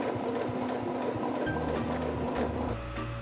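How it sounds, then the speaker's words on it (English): A sewing machine top stitches a fabric earbuds pouch, giving a steady, close mechanical whir that keeps going without a break, with a lower motor hum in the last half second. "I'm going to go right over it, this time top stitching"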